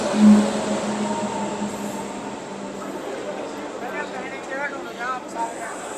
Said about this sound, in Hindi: देखिए प्लेटफॉर्म नंबर 2 पे अभी जस्ट आई है जबलपुर गरीब रथ।